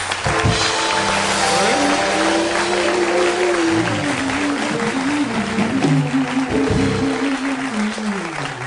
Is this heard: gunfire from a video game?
no